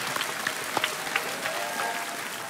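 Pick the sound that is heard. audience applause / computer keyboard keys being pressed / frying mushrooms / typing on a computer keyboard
audience applause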